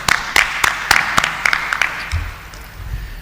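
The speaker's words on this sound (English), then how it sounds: "So huge round of applause for him." Scattered audience clapping at a gathering of doctors and students, a handful of sharp, distinct claps in loose rhythm that fade out as low talking takes over.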